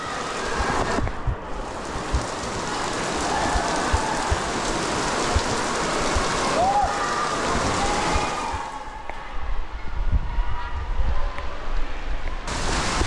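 Steady rain pours down in a neighbourhood, a dense broadband hiss that holds close and loud throughout, with a brief whistle-like tone near the middle and the downpour swelling slightly toward the end.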